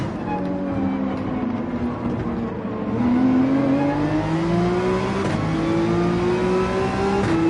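A C-Class race car engine at Spa-Francorchamps in Gran Turismo 7, a loud steady drone that climbs smoothly in pitch as the car accelerates, with other engines whirring nearby and no talking.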